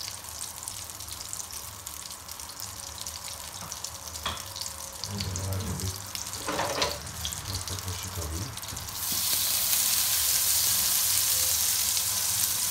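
Butter melting and sizzling in a pan for a boletus mushroom sauté, a steady close frying hiss that swells louder and brighter toward the end, with a few faint clinks and scrapes.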